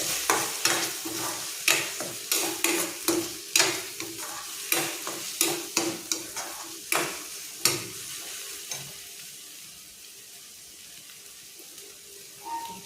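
Spices for a Malvani dried bombil chutney are stirred in a pan, a series of sharp scraping spoon strokes in a brisk rhythm over a faint sizzle, the stirring stopping toward the end and leaving quieter frying.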